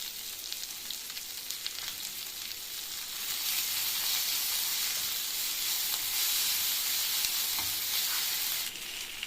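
Ginger paste sizzles and fries in an oiled pan for a dhaba-style egg curry, a steady close hiss that swells slightly midway with a few faint stirring scrapes, no voices.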